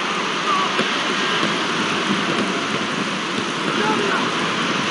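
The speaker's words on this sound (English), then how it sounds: "if it continues to rain like this" Steady, dense rain in the video game FIFA 2002 hisses without a break, a constant wash of falling drops.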